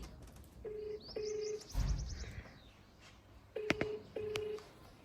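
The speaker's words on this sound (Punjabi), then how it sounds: "ਫੋਨ ਜਿਹੜਾ ਇੱਕ ਵਾਰੀ ਹੋਰ ਲਾ ਕੇ ਦੇਖ ਲੈਣੀ ਆ" Four short telephone dialing beeps come in two quick pairs, quiet and clear, with faint bird chirps in the background.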